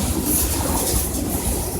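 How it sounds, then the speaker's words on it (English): A long CSX freight train passing close by on the Trenton Subdivision, a loud continuous rumble of rolling railcars with rhythmic wheel clatter and faint high squeal, no talking. "It's a really long train."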